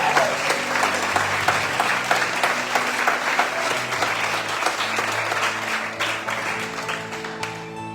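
A church congregation applauds at a sermon, a full, sustained wash of many hands clapping close and loud throughout, with a low musical hum underneath.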